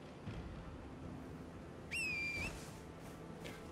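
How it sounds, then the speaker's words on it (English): A single short whistle, meant to summon a horse in a video game, sounds once at moderate volume over a quiet background. "Dude, you hear me whistle"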